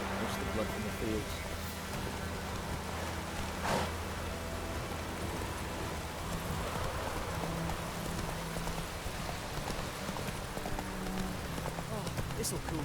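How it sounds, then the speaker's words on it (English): Steady rain falls across open fields, a dense, even hiss that runs unbroken throughout with faint low tones and scattered taps beneath it. "Let it rain. Wash the blood from the fields."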